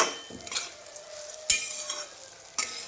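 Sabudana khichdi sautéing in oil in a home kitchen, a soft steady sizzle with a few sharp spoon scrapes against the pan, alone with no talk.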